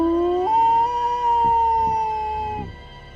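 The Nahuala howls in a horror story: one long, eerie, rising and sustained wail, loud and close, that slowly fades at the end.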